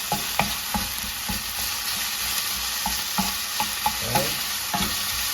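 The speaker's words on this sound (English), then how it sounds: "So let's stir up our chicken" Chicken for crunchy tacos stirred in a hot pan over medium heat, a constant bright sizzle of frying with repeated scraping clicks of the utensil against the pan; a voice briefly speaks once.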